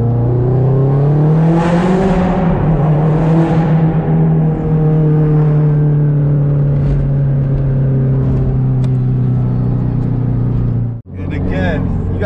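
A 2004 Subaru WRX STI accelerating through a tunnel, the engine's loud, echoing drone climbing in pitch and then holding steady before cutting off abruptly near the end, followed by a short burst of rising revs.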